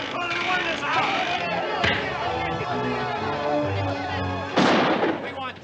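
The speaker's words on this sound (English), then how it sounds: "That shot's bound to get someone for sure." Gunfire from a 1956 western film trailer: a few sharp shots ring out amid dramatic orchestral music and shouted dialogue, with a louder burst near the end.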